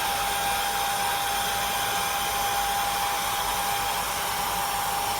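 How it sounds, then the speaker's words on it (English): A hair dryer blows steadily and loudly the whole time, a constant whooshing roar with a high whine and no voices. "With a hair dryer, you get it about down to 30 seconds"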